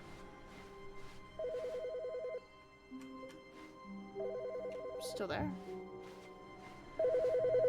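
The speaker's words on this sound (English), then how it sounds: "Where's the phone call?" A telephone rings in The Stanley Parable game, repeated electronic trilling bursts at steady volume, with someone speaking briefly between rings.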